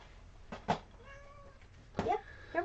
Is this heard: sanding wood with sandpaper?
no